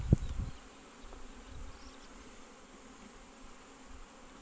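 A faint, steady honeybee buzz hums close by after a brief knock at the start, continuing quietly throughout.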